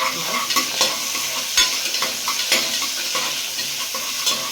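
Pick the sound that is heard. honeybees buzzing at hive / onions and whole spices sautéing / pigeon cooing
onions and whole spices sautéing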